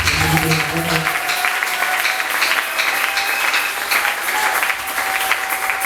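Congregation applauding during a church service, with dense sustained clapping throughout and a voice audible beneath it at the start.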